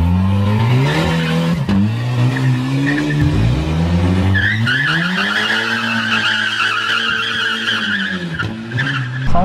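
Volkswagen Jetta accelerating hard with tires squealing, a loud sustained engine note rising and falling alongside a high screech of rubber throughout.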